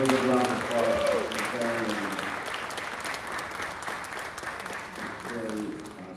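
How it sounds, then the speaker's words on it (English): People at a City Hall meeting give a round of applause, a dense, sustained wash of many hands clapping throughout, while a voice talks over the start and again near the end. "We'll give a round of applause."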